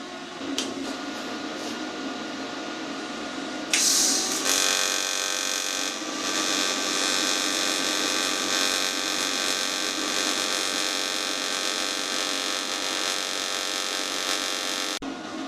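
TIG welding steel with a gas lens and no filler wire, fusing the metal: a steady electric buzz starts a few seconds in after some handling noises and holds, even and close, until it cuts off near the end.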